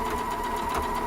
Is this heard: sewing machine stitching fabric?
yes